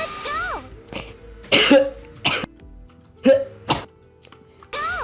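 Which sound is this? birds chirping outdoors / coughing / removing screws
coughing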